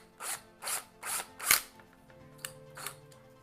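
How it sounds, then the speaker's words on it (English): A 1/4 inch drill bit bores into melted plastic on a 2017 Ford F-150 grille emblem, four short harsh whirring bursts followed by two fainter taps, close and alone. "it makes that awful plastic breaking sound, but it drills down just enough to release that little lip of melted plastic."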